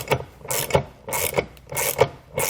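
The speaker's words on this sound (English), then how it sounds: "I'm just going to grab a 19mm socket and tighten that down." A ratchet with a 19mm socket tightens a nylon lock nut on a Stealth Hitches hidden rack receiver on a 2018 Tesla, with about five crisp, close clicking strokes in a steady back-and-forth rhythm.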